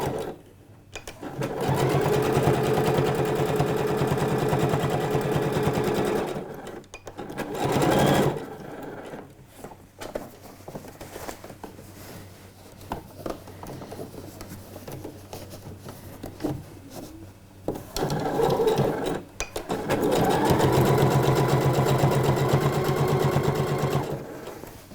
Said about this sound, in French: je vais faire une surpiqûre à 2 mm du bord haut de la ceinture